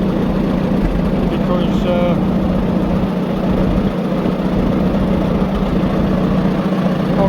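A tractor engine runs at a steady idle with the PTO engaged, making a continuous mid-to-low rumble. Someone speaks briefly over it.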